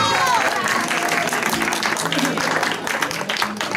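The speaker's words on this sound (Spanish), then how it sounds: "Un aplauso fuerte para Lin" Loud applause from guests at a quinceañera party for Lin, dense clapping with crowd noise and some voices mixed in throughout.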